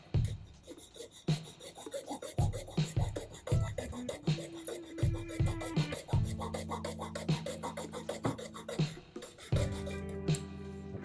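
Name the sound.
cutting a resin scale model part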